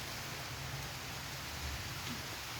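Rain falls as a dense, steady, even hiss at moderate loudness, with no talking.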